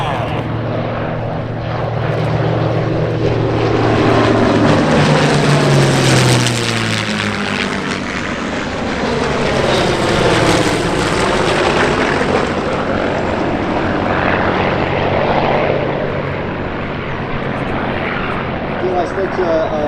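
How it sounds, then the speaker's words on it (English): WWII Corsair fighter plane making a low pass at a gathering of WWII fighters, a loud propeller engine roar that swells and sweeps past with a shifting pitch, sustained over the whole stretch, with a voice talking over it. "Corsair, left pass."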